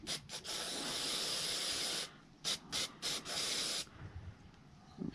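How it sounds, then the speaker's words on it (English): Spray cleaner hissing during maintenance of an R50 Pathfinder: one long continuous spray, then several short separate bursts and another longer blast, close and loud, with no talk. "kind of give this a quick spray"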